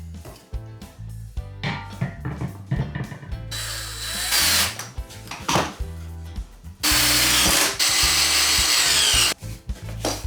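Power drill driving screws to fix a leg onto a small wooden kids' table being upcycled, with several loud whirring bursts of varying length, close up and with no talk.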